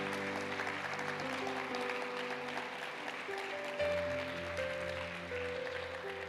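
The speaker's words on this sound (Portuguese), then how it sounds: "dá mais uma salva de palmas ao Senhor Jesus" At a youth church service, the congregation gives steady applause, a broad crowd of clapping under sustained keyboard or organ chords that keep playing throughout.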